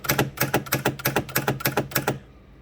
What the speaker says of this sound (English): let me start with our standard solenoids that are the same as the ones that we use for when the ball hits bumpers or slingshots